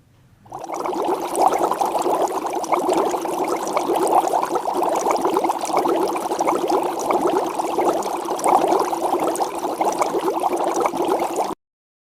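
A steady, continuous bubbling roar of water boiling for cooking, loud and unbroken for about eleven seconds before it stops abruptly, with no voices.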